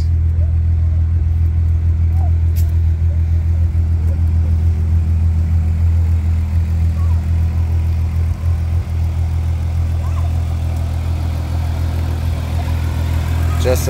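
A repaired car engine idles in a steady, loud, low hum after loose wires were fixed and a new cap fitted, with no coolant leaks and the cooling fans running. The drone stays even throughout, with one small dip near the middle.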